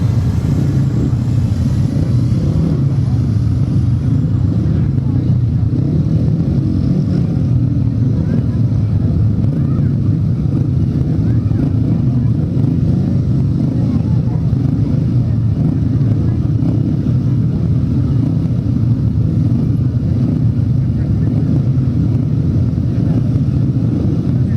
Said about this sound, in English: Revving up then for race number 4, second heat of the solos.